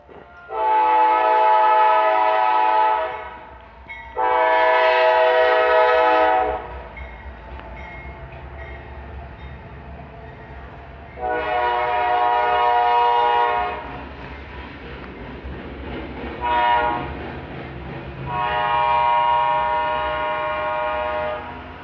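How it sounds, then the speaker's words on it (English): A passing train sounds its horn in several long loud blasts separated by pauses, with the low rumble of rail cars continuing between them. "You think I make that train come"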